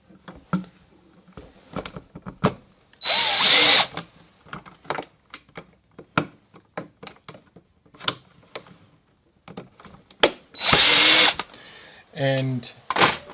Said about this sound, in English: I'm going to start the screws in with my drill